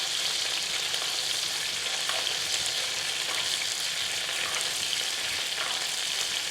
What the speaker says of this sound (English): now one final baste of our monkfish